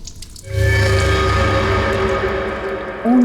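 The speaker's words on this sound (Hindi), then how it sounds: "बाथरूम में पानी बहने की आवाज आ रही है।" Water running steadily in a bathroom, a continuous close rush with a tonal hum that starts after a brief quiet moment and stays loud throughout.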